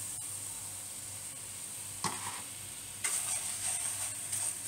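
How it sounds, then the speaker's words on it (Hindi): Honey and sugar caramelize in a pan with a soft, steady sizzle, joined by a few brief scraping stirs that get a little louder toward the end. "इसे इस तरह से चलाते हुए कैरमलाइज कर लेंगे जब तक चीनी मेल्ट नहीं हो जाती पूरी तरह।"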